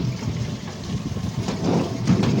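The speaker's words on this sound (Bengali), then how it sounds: "বৃষ্টি পড়ছে।" Rain falling outdoors near a railway station among green trees, a steady close hiss and patter of drops with a low rumbling wash underneath, continuous for a couple of seconds with no voices.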